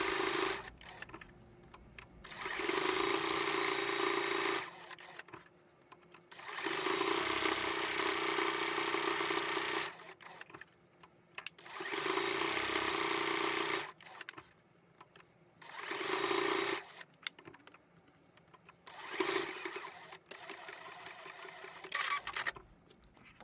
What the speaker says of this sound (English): sew all the way around all four sides with a 1/4 inch seam allowance